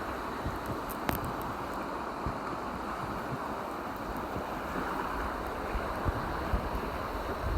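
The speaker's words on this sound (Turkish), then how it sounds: "Aslında rüzgar da var." Strong, steady wind buffeting the microphone outdoors in Antalya, a constant roar with gusty rumble and no speech.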